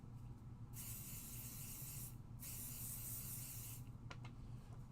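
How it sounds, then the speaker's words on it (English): Pixie spray is sprayed onto a craft in two long, quiet, even hissing bursts separated by a short pause, with no voices. "we're going to use a little pixie spray because I do want to do a little rainbow here"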